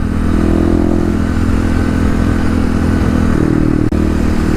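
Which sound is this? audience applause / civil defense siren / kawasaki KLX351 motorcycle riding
kawasaki KLX351 motorcycle riding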